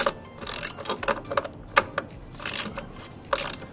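A ratchet is cranked in short bursts to tighten the mount for string lights on a whiskey barrel post, a close series of quick metallic clicks and pawl rattles with brief pauses between strokes.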